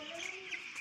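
Seven-day-old poultry chicks peep and cheep in a faint, continuous high chatter, with overlapping calls from a brood kept in a shed.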